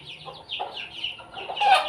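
Native country chickens cluck softly in their coop, with a string of short, repeated clucks and a slightly louder squawk near the end, all fairly quiet and close.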